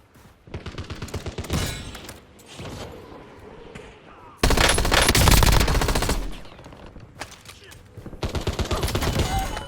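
Gunfire in the video game Warzone, with bursts of automatic weapon fire, a brief lull, then a long loud sustained volley and further rapid shots near the end, close and dense.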